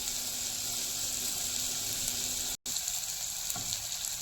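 Potatoes roast in a pan with a steady, even sizzle that carries on throughout, broken only by a brief dropout partway, with no talking.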